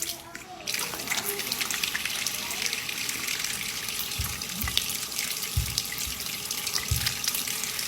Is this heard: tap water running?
yes